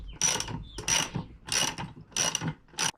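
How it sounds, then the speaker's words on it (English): A 19mm socket ratchet tightens the rear wheel on a MotoVox minibike, clicking close and loud in five quick bursts separated by short pauses. "And we'll use our 19mm socket and then our 14mm wrench"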